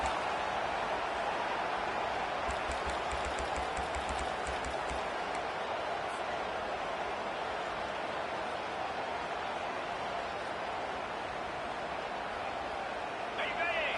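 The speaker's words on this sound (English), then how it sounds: "listen to this crowd noise. This stadium is vibrating." A packed stadium crowd at a Tennessee versus Clemson college football game roars in one dense, continuous wall of noise that stays loud and even throughout.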